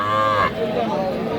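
A dairy cow or calf at a cattle market gives a short, loud, close moo that cuts off abruptly, followed by a murmur of crowd noise.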